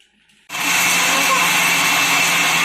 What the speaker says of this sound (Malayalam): mixie ഓണാക്കിയ sound കേട്ടിട്ടാണ്